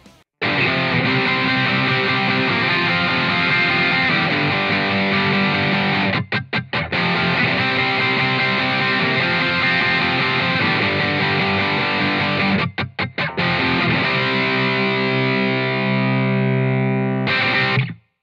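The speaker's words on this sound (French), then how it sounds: "on est sur un profil de Mezza Boogie Dual Rectifier" Heavy distorted electric guitar through a Mesa Boogie Dual Rectifier amp profile riffs loudly and continuously, with a few brief stops where the chugging cuts out before resuming.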